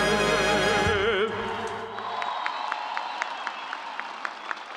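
A crowd at a university commencement ceremony breaks into applause and cheers as a sung national anthem ends, the singing fading out under a swell of clapping, then scattered claps ringing out alone.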